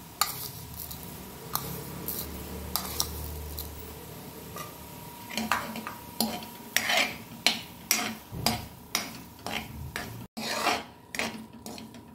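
Apple pieces and sugar stirred and fried in a pan for apple kheer, a run of distinct scraping and clinking strokes against the metal, fairly close and growing more rhythmic, with no talk over them.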